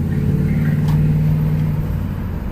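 A Dodge Durango engine fitted with a customized eBay aftermarket intake runs at a steady, loud low drone with a strong tonal hum, and there is no talking.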